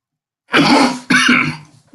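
A close, loud throat clearing followed by a rough cough, two harsh bursts in quick succession.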